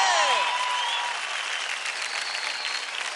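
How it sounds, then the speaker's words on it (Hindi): Audience applause after a children's dance group performance on a TV dance show, a dense burst of clapping that stays strong and fairly even for about three seconds. "जोरदार तालियां हो जाए प्रिंस की पलटन के लिए"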